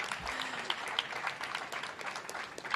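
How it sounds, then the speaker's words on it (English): Steady applause from a crowd at a school renovation kickoff event, dense and even throughout, with faint voices mixed in underneath. "Let's give them a big round of applause."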